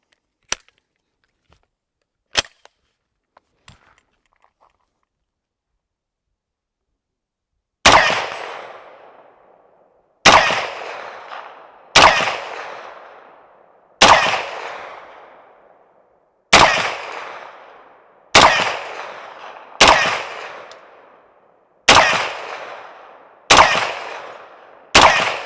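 A Winchester 1907 rifle chambered in .351 SL fires about ten loud, sharp shots with ringing decay, spaced a second or two apart after a few faint clicks at the start, with no talk.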